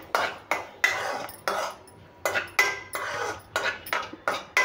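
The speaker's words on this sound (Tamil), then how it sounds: "பட்டரில் நம்ம சேர்த்து கலக்கி விடலாம், கொஞ்சம் சூடேற்றுறதுக்காக தான்." Peanuts stirred with butter and salt in a pan for a peanut chaat, giving a close series of rhythmic scraping and rattling strokes of a utensil against metal, about one every half second.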